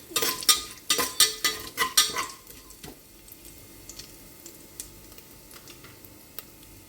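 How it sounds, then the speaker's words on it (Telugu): Bay leaf and whole biryani spices drop into a hot pan, giving a quick run of sharp crackling pops at first that fade to sparse ticks and light sizzling. "ముందుగా మనం బిర్యానీ ఆకు, బిర్యానీ దినుసులు అన్నీ వేసేసుకొని ఒకసారి వేయించుకుంటామండి"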